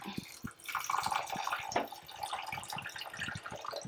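Lentils are washed by hand in water, with close splashing, sloshing and dripping that rises and falls in short bursts.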